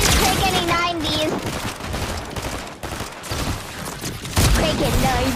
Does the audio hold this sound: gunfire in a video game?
yes